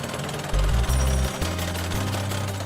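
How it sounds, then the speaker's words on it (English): Heavy piling rig drills 7-metre piles into a river bed for a cofferdam, a loud low mechanical pounding and engine drone that surges, cuts out briefly and resumes. "drilling in 7-metre long piles to reach the clay base and seal off the flow"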